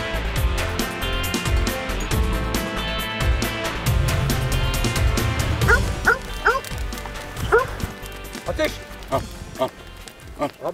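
A dog barks and yips repeatedly, with a short burst of rapid barks partway through, over background talk and clatter.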